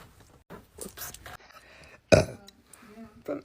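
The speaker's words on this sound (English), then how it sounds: "At least I'm burping." A woman lets out one loud, throaty burp that stands out sharply between stretches of her chatter, close to the microphone.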